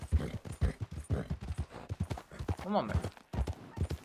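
Horse hooves clip-clopping in the video game Red Dead Redemption 2 (RedM roleplay), a steady, close walking rhythm of distinct hoof strikes with a brief whinny, while a person speaks over it.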